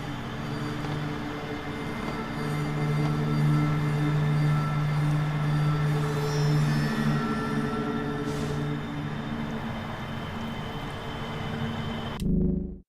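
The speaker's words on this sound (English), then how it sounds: "Train departs in 5 minutes." Ambient rumble of a train waiting at a station in a video game, with a steady low hum and droning engine tones running throughout, ending in a brief louder thump near the close.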